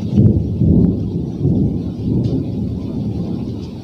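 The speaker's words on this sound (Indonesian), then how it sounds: "Di luar lagi hujan dan geluduk" Steady outdoor rain with a deep rolling thunderstorm rumble, loud and continuous throughout with no speech.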